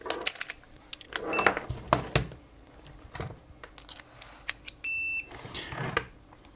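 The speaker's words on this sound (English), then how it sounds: "let's get out the continuity tester and just do a bit of poking" A continuity tester probes the pins of an Alphasmart Dana laptop's circuit board, giving a short steady beep among close clicks and taps from the probes and handling.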